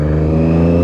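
A motorcycle riding on Isle of Man country roads during TT week, its engine a loud, steady close drone with a constant whir throughout the short moment.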